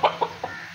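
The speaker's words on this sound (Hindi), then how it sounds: "ये देखें जी, यहाँ पर अपना मुर्गे हैं।" Three quick clucks from a chicken, close by, in a short run with a brief gap between each.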